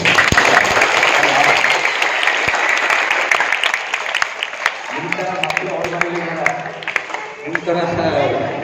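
Students at a school gathering applauding loudly in a dense wash of claps that fades somewhat as a speaker's voice comes in over it midway.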